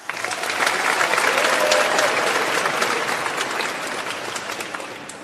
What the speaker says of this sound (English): can we have a round of applause for burgers, if you like burgers?